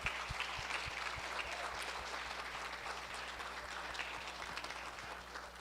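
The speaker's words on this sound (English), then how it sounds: "if everybody can put your hands together and round of applause for Kaushik" Audience applause at a network meeting of immigration consultants, a steady wash of clapping that runs the whole stretch, fairly distant and even in level, with faint low background sounds underneath.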